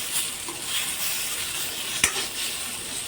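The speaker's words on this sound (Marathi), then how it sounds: "अशा प्रकारे भाजून घ्यायचे मस्त तरपूस असं काळा रंग येईपर्यंत" Chopped onion, tomato, ginger and garlic roasting in a pan until darkened, with a soft continuous sizzle, gentle stirring scrapes and one sharp utensil tap near the middle, and no voices.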